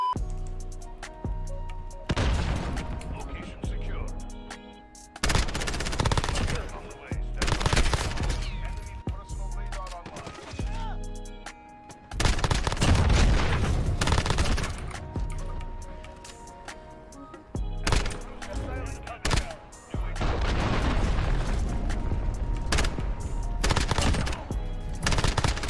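Machine-gun fire in Modern Warfare comes in repeated long automatic bursts, loud and close, separated by short quieter gaps throughout the stretch.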